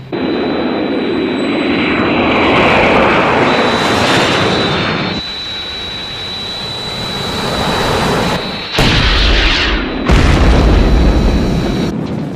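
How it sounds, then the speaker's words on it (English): Jet aircraft engines roar loudly and continuously during an attack by three unidentified aircraft, with abrupt heavy booms of explosions cutting in near the end. "I'm under attack from 3 unidentified aircraft and taking evasive action."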